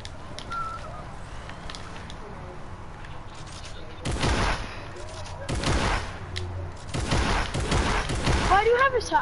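Shotgun fire in a video game: a run of loud, sharp blasts in the second half, following a quieter stretch with birdlike chirps in the background.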